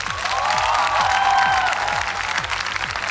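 Audience applause rises and swells to welcome contestants onto the stage at a televised gala show, dense sustained clapping with some crowd noise and cheering, and the host's voice briefly audible over it.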